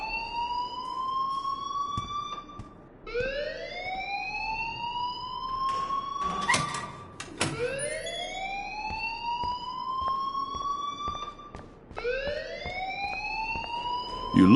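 A loud, continuous fire alarm in the video game Life is Strange sounds a repeated rising siren-like sweep, each wail climbing and holding for roughly three seconds, with a sharp clatter midway and no voices.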